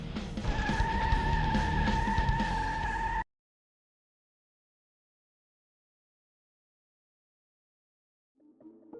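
A race car in Need for Speed II on the PS1 loses grip and fishtails, its tires squealing in a steady, loud skid with engine drone for about three seconds. It cuts to silence, then a faint sound returns at the very end.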